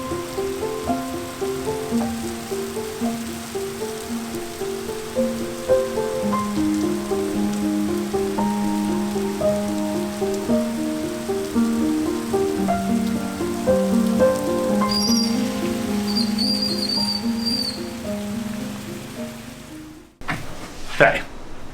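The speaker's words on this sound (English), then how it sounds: "Now it's pouring rain." Heavy rain pours steadily during a thunderstorm in Cozumel, a constant hiss running under melodic music, with a brief sharp clatter near the end.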